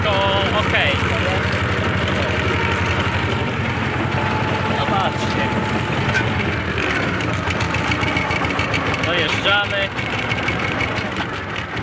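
A tractor engine runs steadily at about 1800 rpm while pulling a disc harrow across stubble, a continuous mid-pitched drone close by as someone talks over it.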